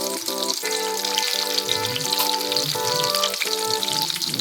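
Green chillies and chopped onion fry in oil with a lively crackling sizzle close by, broken by a few soft pops and bubbling over a steady tonal background hum.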